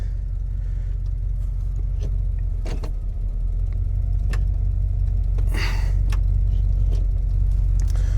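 A 1978 K20 truck engine idles on old gasoline, a steady low rumble running throughout with a few brief clicks and a short hiss over it, no voices.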